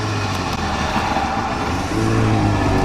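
A Goggomobil's small two-stroke engine runs loud and close with a raspy, buzzing drone, rising as it revs up in the final second.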